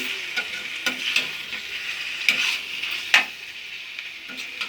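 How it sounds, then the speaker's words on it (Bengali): Chicken rogan josh curry is stirred in a pan after simmering covered, a soft continuous sizzle broken by several sharp spoon scrapes and taps against the pan, close and without talk. "এই সময় এটাকে ভালো করে একবার নেড়ে দেবো আগে"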